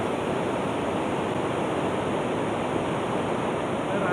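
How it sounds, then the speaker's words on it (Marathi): Water from the Sheel dam in Ratnagiri overflows after heavy monsoon rain, making a constant, loud, broadband rushing roar that stays even from start to finish, with no voices. "रत्नागिरीतही झालेल्या मुसळधार पावसामुळे शीळ धरण आता ओसंडून वाहू लागले।"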